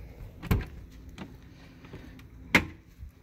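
Rear doors of a 1999 Airstream B190 camper van are opened, giving a few separate clunks and latch clicks, with the sharpest knock near the end. The sounds are close and there is no talk.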